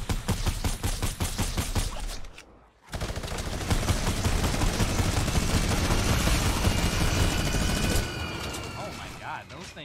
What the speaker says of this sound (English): That new minigun sound is ridiculous too.